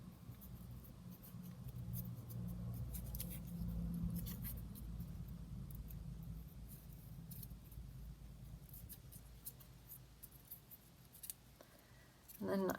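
Scissors cut along an orange paper petal for a junk journal flower, with soft close snips and paper rustle spread across the clip and a few louder cuts near the end, mostly without talk.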